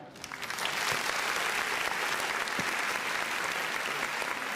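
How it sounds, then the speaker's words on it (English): Steady crowd applause at a university basketball league press conference, rising quickly at the start and holding even and fairly loud throughout. "Round of applause once again for our correspondents for season 88"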